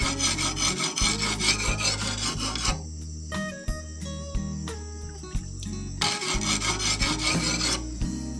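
An oil palm harvesting sickle scraped on the coarse side of a sharpening stone gives steady rasping strokes in two long bursts. They are loud and close, with a quieter metallic ringing stretch between them.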